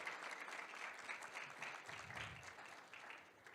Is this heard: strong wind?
no